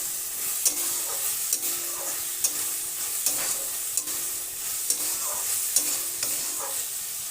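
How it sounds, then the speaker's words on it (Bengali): Green peas stirred and fried in a pan, with a steady sizzle under regular scraping strokes of a spatula, roughly one per second, close and clear with no talking. "এইভাবে 2 মিনিট নেড়ে নেড়ে ভালো করে রান্না করে নেব মটরশুঁটি।"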